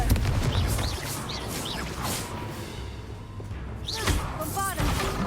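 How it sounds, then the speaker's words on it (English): The Confringo fire spell is cast in Hogwarts Legacy, giving whooshing blasts and crackling impacts amid busy combat noise, with brief chirping magical tones and voices underneath. "Confringo."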